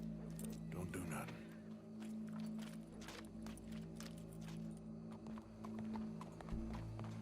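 Horse hooves clip-clop in Red Dead Redemption 2, a steady walking rhythm of sharp hoof strikes close by, with an occasional snort, low ambient hum and brief background voices.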